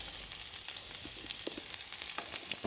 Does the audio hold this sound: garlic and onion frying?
yes